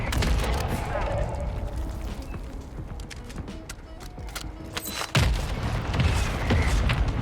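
Mortar strike explosions in Call of Duty Warzone 2.0 pound repeatedly amid dense gunfire and crackling impacts, with players talking over the loud, continuous barrage and a heavier boom landing near the end.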